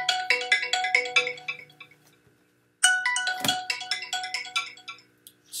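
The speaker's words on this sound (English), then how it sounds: "somebody keeps trying to call and I didn't set the phone on quiet" A phone ringtone from an incoming call, a bright repeating melodic pattern that plays, pauses for about a second, then starts again, loud and near with no talking.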